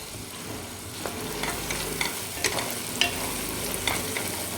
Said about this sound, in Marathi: कांदा कोंबरा छान आपण तेलात परतून घेतला आहे